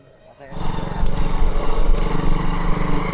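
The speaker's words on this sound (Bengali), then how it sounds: "আমরা এখন বাইকে আছি" A motorcycle rides along in Dubai while a DJI Mini 4 Pro drone tracks it, its engine a steady, loud drone after a brief quiet start, with wind rumble close to the mic.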